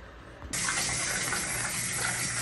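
Bath and shower water starts running from a tap with a sudden loud gush that continues as a steady, close, hissing flow.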